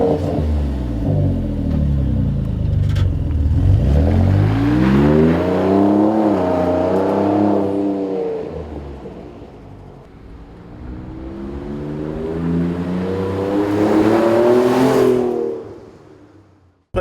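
A 2017 Ford F-150 Raptor's Ford Performance by Borla Touring cat-back exhaust rumbles loudly and close as the engine accelerates through the gears twice, pitch climbing each time, then easing off at the end.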